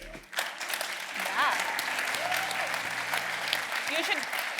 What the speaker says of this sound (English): You're all clapping for Colin and Killian, who are in the audien